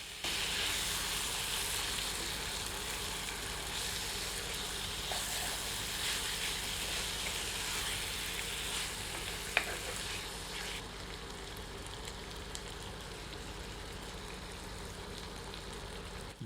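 Marinated chicken and onions frying in a pan over medium heat for a Goan chicken vindaloo, a steady, dense sizzle running unbroken throughout with one small clink partway through and no talking.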